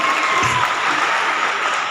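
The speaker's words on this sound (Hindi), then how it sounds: "तो जोरदार ताली होना चाहिए भैया के लिए।" Loud, dense audience applause at an LDC program event in Lucknow, Uttar Pradesh, steady and continuous throughout with no voices over it.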